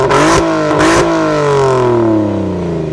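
Audi TT 3.2 VR6 engine revving hard up close, two sharp throttle blips followed by a long, smoothly falling rev as the six-cylinder settles back, loud and alone with no talking.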